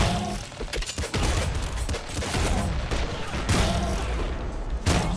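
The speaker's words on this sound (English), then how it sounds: "Super splinter gun" A super splinter gun fires repeatedly in the video game Nuclear Throne, making dense rapid volleys of sharp shots with short gaps between bursts, loud and in the foreground.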